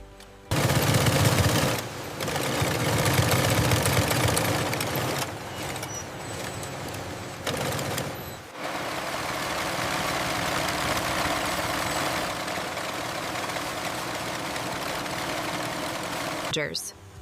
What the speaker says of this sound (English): Premium bamboo towels move into specialized hemming machines that create elegant, reinforced borders.